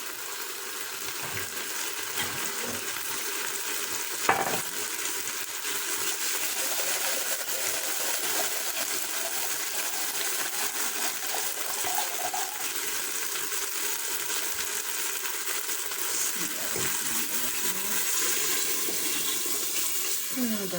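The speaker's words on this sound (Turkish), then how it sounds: "Şimdi de suyunu ilave edeceğiz." Water pours into a pot of borlotti bean pilaki, a steady broadband rush running almost the whole time, close by in a kitchen, with a brief clink partway through and no talk.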